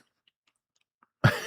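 After near silence, a single abrupt, close throat clearing bursts out loudly and rasps on for a moment in a quiet room during a tabletop RPG talk stream.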